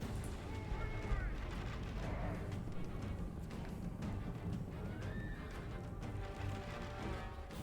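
Horses neighing amid the din of an ancient battle in Rome: Total War Barbarian Invasion, several whinnies rising over a dense rumble of hooves, clashing and distant booms, with voices mixed into the noise.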